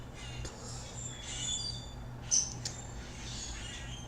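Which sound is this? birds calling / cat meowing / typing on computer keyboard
birds calling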